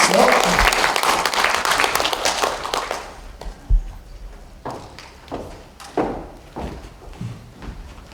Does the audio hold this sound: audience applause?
yes